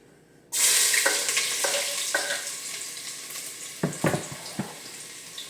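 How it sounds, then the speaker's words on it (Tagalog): Garlic, onion and ginger sauté in a hot pan, a loud steady sizzle starting abruptly and running throughout, broken by a few clattering stirs near the end. "So nagisa na natin yung bawang sibuyas at luya."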